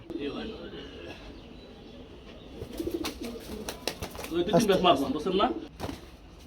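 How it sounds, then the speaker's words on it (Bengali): Young three-feather Lotan pigeon squabs give soft coos and light fluttering among other pigeons, rising and busier in the second half, with people talking throughout. "বন্ধুরা বাচ্চা কবুতর, 3 ফেদারের বাচ্চা"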